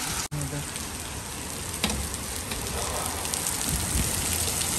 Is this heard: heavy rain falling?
yes